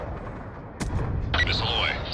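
A Hellfire missile fired from a Reaper drone in Black Ops 2: a sharp launch crack, then a whooshing, rising missile rush shortly after, moderately loud amid the game's background noise.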